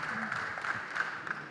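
Audience applause at an HKBP church finance training session in a meeting room, a steady wash of clapping at moderate distance, fairly quiet and even throughout the short stretch with no distinct individual claps standing out.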